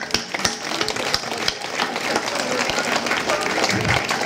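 A crowd applauding at a harvest festival in Chrudim, steady clapping from many hands that builds and continues throughout, filling the room at a moderate distance.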